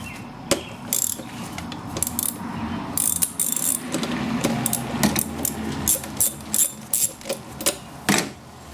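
Rapid ratcheting clicks from a 10mm socket turning a bolt during a transmission filter change on a Honda Civic, coming in close, uneven bursts with short pauses between strokes.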